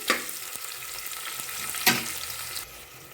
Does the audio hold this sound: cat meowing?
no